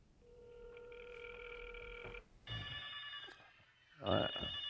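A telephone ringing nearby, a few electronic ring bursts separated by brief gaps, fairly faint, with no talk over them.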